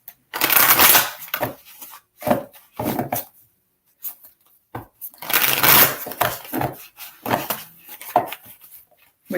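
Tarot cards shuffled by hand in several quick riffling bursts, crisp and close, separated by brief pauses and softer handling rustles.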